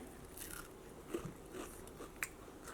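Someone bites into a crisp, deep-fried snack, two or three sharp crunches spaced apart against a quiet kitchen background, close and without talk.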